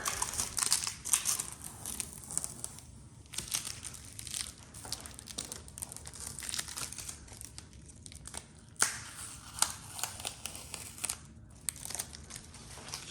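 Protective plastic film being peeled off a Stern Foo Fighters LE pinball machine, giving a close, continuous crinkling and tearing rustle with a few sharper crackles, heard alone.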